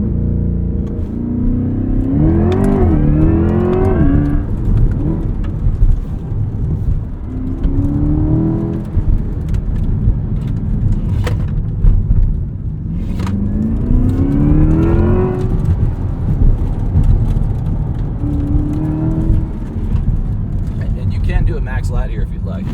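A 2024 Corvette E-Ray launches hard off the line under launch control, its engine rising in steady accelerating sweeps and backing off between pulls, loud and close inside the cabin while people talk over it.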